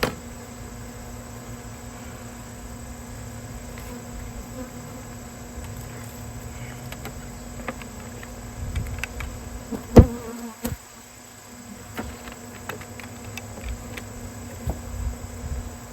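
Honey bees buzz steadily at an open-air hive removal, a continuous insect drone with a few sharp knocks and handling clicks partway through.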